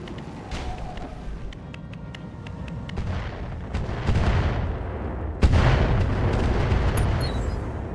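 Hydra ammunition fires in the mech combat game Battletech with the Roguetech mod, a rapid volley of sharp cracking shots over a continuous rumbling roar. A heavier boom hits near the end.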